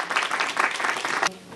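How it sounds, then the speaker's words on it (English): A crowd at a Sindhi cultural event applauds with dense, lively clapping that stays loud and close for just over a second, then stops abruptly and leaves a faint room hush. "A great applause for her"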